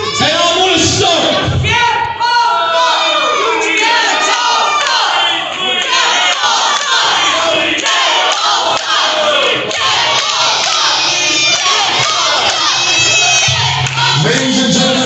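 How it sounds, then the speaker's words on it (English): A wrestling crowd in Hurricane, West Virginia chants loudly and rhythmically, many voices shouting in unison throughout, dense and close. "if the crowd keeps chanting Jeff Paul sucks"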